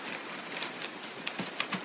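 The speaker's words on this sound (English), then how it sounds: "Don't know if you can hear that rain." Steady rain falls outside on a wintry day, a soft, even hiss with scattered faint drips and patters, heard from indoors at low volume.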